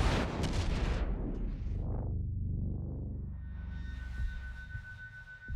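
Naval gunfire booms and crashes around a battleship in the World of Warships game, a loud opening blast that rumbles and decays, followed by lower sustained rumble and a faint steady tone.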